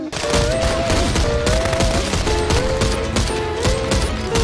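Rapid sustained gunfire in the video game Contraband Police, a dense fusillade of loud shots running throughout, with a tonal game sound or music line weaving over the firing.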